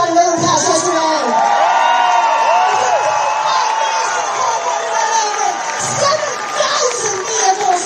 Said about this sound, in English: This is also a round of applause.